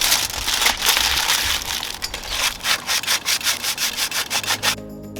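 Crumpled tin foil scrubbed hard across dirty grill grates, a loud close-up rasping rub that settles into a steady back-and-forth rhythm of about a dozen strokes before stopping abruptly.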